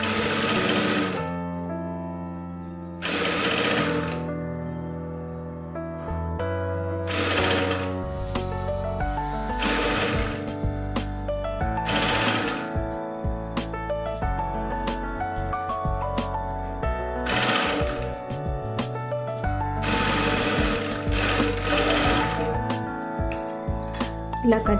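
A sewing machine stitching lining cloth for a blouse runs in loud, close, rapid mechanical bursts separated by short pauses, steady and continuous through most of the stretch.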